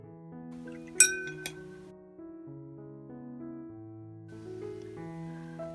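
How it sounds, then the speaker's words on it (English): Two bright tings of a watercolor paintbrush tapping the side of a water glass, one sharp and one softer, over quiet background music. "That ting you hear is"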